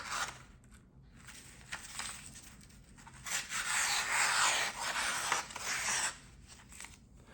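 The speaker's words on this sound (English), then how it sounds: "Oh God, this is just a push cut, not even moving" A Kizer Towser S folding knife push-cuts through material with a close dry scraping and rasping hiss, rising into a louder sustained cut in the middle before tapering off.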